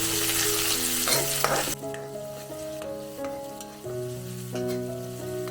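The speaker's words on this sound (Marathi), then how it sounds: "हा कांदा चांगला फ्राय करून घ्यायचा आपल्याला तर ब्राऊन होईल ना तोपर्यंत जरा फ्राय करायचं" Chopped onion fries on high heat in a pan for a cabbage masala, a steady close sizzle running throughout with occasional stirring scrapes, no talking.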